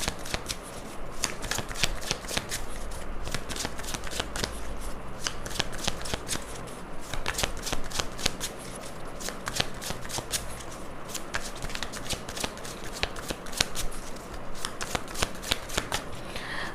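Tarot cards are shuffled by hand in close, continuous rapid riffling and flapping bursts that carry on steadily throughout, loud and crisp with no talking.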